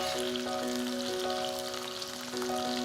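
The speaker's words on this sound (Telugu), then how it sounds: "మధ్య మధ్యలో కదుపుతూ అకేషనల్గా ముక్కలు చితికిపోకుండా వేయించండి" Bitter gourd pieces fry in a pan with a steady, dense crackling sizzle that stays close and even throughout, while faint tonal hum lines run underneath.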